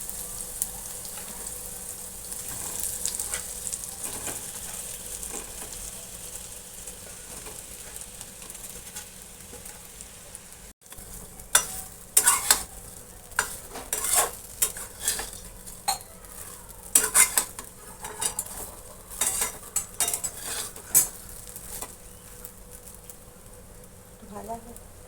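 Gujarati muthia shallow-frying in a pan gives a steady, moderate sizzle and hiss, with frequent sharp clicks and scrapes of stirring that grow busier in the second half; a voice may be faintly present.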